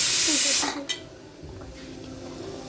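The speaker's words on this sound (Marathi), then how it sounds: "कुकर लावलेला आहे, कुकरची 2 शिटी झालेली आहे" A pressure cooker releasing steam in a home kitchen: a loud, bright hiss that blasts for about half a second, then cuts off and leaves a low background murmur.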